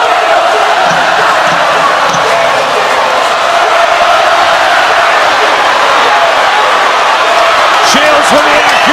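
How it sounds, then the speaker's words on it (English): A boxing arena crowd roars steadily through a women's championship bout between Claressa Shields and Savannah Marshall, a dense, loud, continuous wash of cheering with a commentator talking over it. "Listen to the crowd."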